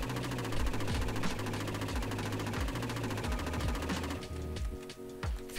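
Rapid rocket launcher fire in the online shooter Krunker.io during a PvP match, a dense, loud stream of repeated blasts and booms with a pulsing low thump, continuous throughout and briefly thinning near the end.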